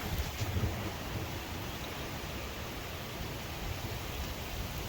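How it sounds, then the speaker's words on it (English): Steady broadband roar of strong wind during a windstorm, with low gusty buffeting early on and no talking. "Just listen to that wind."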